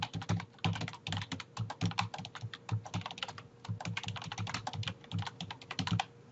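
Fast, irregular key clatter of someone typing a forum reply on a computer keyboard, close and steady with brief pauses between bursts, no talking.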